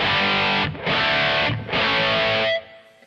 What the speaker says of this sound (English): here's the plus distortion, turning the drive up.